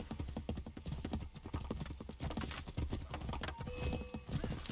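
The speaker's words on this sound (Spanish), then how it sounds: "Sube al caballo, ratona Keton." In Assassin's Creed III, rapid clip-clop of horse hooves on hard ground keeps a steady galloping rhythm, with a faint horse whinny near the end, fairly quiet and close.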